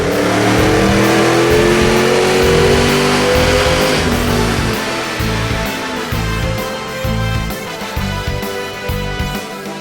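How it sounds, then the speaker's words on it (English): A 2005-10 Ford Mustang GT V8 fitted with a BBK twin 62mm throttle body revving hard on a dyno, loud sustained engine roar rising then falling into repeated throttle blips. "Let's go ahead and take it for a test drive on the dyno and see how it does."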